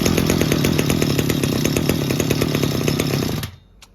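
A secondhand Japanese Maruyama 320 brush cutter's small two-stroke engine roars steadily at high revs, loud and close, then cuts off abruptly near the end leaving quiet.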